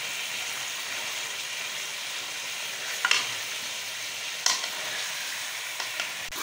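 Chicken frying in a pan as ginger garlic paste is stirred in: steady sizzling throughout, with a few sharp clicks and scrapes of the spoon against the pan, no talk.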